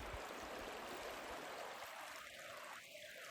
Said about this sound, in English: Now the river you can hear below me